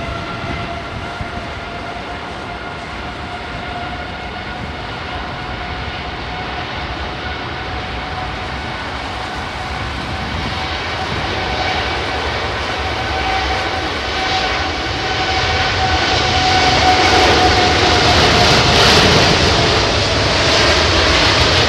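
A Boeing 787 Dreamliner jet taking off on a windy day at London Heathrow, its engines a loud, steady roar with a high whine that swells gradually as it accelerates down the runway.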